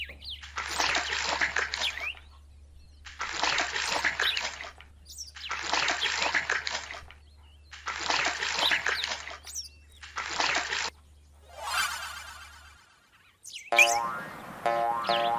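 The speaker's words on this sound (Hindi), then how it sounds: "अब फसल को पानी दिया जा रहा है।" Water poured over toy farm crops in a miniature farm set, coming in five evenly spaced splashing pours of about two seconds each, followed by a brief bubbly trickle and a springy boing at the end.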